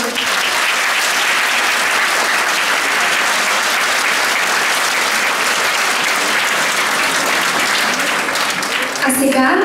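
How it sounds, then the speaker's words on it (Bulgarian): Sustained, steady applause from a school audience at an anniversary concert, a dense wash of clapping filling the hall for nearly ten seconds before a voice begins at the very end. "Аплодисменти"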